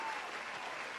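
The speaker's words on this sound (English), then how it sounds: "Another round of applause. I'm gonna give them another one." A short, dense round of applause from a small audience, steady and even throughout.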